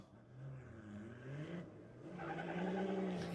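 Nissan Patrol diesel utes drag racing at Sydney Dragway, engines droning from a distance and rising in pitch as they accelerate down the strip, fairly faint, with no one talking.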